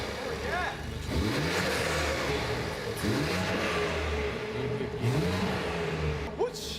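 A car engine revs in short repeated bursts with a whooshing intake suction, loud and close, while people talk over it.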